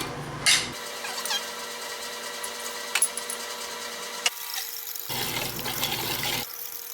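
Coffee poured into a homemade ice cream mix of milk and sugar, a steady, close liquid pour with a few light clinks, running alone for several seconds.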